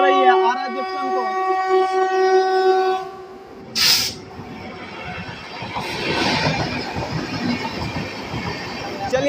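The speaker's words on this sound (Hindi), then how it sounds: "देखिए आरा जंक्शन पर कोई तो ट्रेन है जो कि क्रॉस कर रही है आरा जंक्शन को।" A train passes through Ara Junction railway station in Bihar, sounding a loud, sustained horn, then a sharp burst and a heavy, continuous rumble of wheels and carriages close by.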